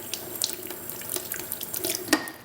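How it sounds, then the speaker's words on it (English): Tap water running steadily from a faucet as a Lamy fountain pen converter is rinsed beneath it, with a close, continuous splashing and small gurgles, no voices. "And so under the running water, you're going to take the water in and push it out"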